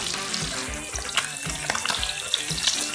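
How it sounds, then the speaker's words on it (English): Fish sizzling in hot oil in a frying pan, a dense continuous crackle and spatter with frequent sharp pops, close and fairly loud, with no voices. "Hope you can hear the sizzling sound here."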